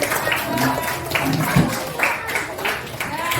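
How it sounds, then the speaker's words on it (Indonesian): A class of fifth-grade elementary pupils claps together in a classroom, a steady burst of many small hands that carries on for a few seconds with a voice faintly under it. "Tepuk tangan"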